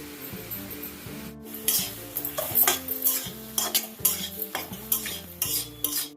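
Tomato pieces sizzle in oil in a kadai for tomato chutney. A spoon stirs and scrapes against the pan in brisk, repeated strokes over a steady frying hiss, close and clear, with no talk.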